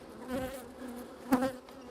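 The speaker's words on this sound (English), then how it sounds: "And we still have some concerned bees here." Honeybees buzz nearby at an open hive being installed, a wavering drone that rises and falls, with one bee passing close and louder near the end.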